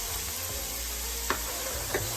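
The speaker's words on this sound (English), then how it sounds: "Now I'm going to add the deep fried onion" Deep fried onion tipped into a pan of vegetable jalfrezi, with a steady low sizzle underneath and two soft clatters from the pan about half a second apart.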